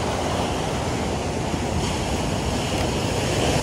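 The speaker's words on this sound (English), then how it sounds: "We don't have snow, but we have waves." Ocean surf breaking steadily on a Hawaiian reef break at Christmastime, a continuous loud roar of whitewater with wind buffeting the microphone and no voices.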